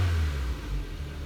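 Ford Focus engine with a slightly flat battery idling after starting, a low, steady rumble heard close with a slight dip partway through and no talk.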